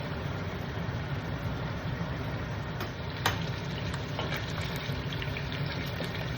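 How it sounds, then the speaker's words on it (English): Pork belly fries in its own rendered fat for Portuguese torresmos, a steady close sizzle and bubbling hiss with a few sharp pops and spits scattered through. "So the fat is helping the pork belly fry up and have a beautiful browning of a color."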